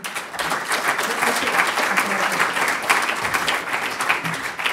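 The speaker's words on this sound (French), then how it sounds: "On peut encore vous applaudir." An audience at a conference applauds the speakers with sustained, lively clapping from many hands that fills the room and holds steady to the end, with possible voices mixed in.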